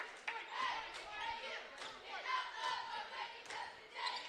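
Crowd murmur and shouts rise and fall in a high school boys basketball gym, with scattered yells and faint thuds, heard at moderate distance and fairly quiet.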